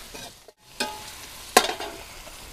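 Green chillies dropped into a hot pan with softened tomatoes, a brief hush then bursts of sharp close sizzling and spattering, with a loud crackle near the end.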